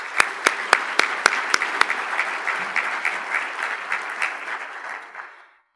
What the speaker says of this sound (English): Can we get a quick round of applause for our sponsors?